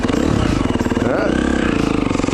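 A 2011 KTM 350 XC-F dirt bike runs in second gear on the mild map on a Utah trail, its engine a loud, close, steady thumping drone that rises briefly in pitch.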